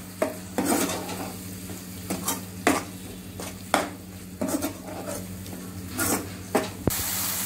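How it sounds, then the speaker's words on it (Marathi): Masala is sautéed with yogurt in a pan for egg biryani, with a low steady sizzle under repeated scraping strokes of a spoon against the pot, close and wordless, ending with a light metallic clink. "दही टाकून पण आपण चांगलं परतून घेऊया।"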